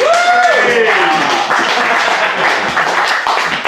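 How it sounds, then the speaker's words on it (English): Applause for a volunteer during a comedy variety stage show, a continuous crowd clatter that runs throughout, with a whistle or voice sliding across the first half-second. "Round of applause"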